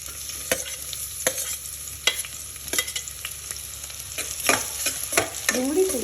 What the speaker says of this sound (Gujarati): તેલ સારી રીતના ગરમ થઈ ગયા બાદ તેમાં આપણે નાખીશું ડુંગળી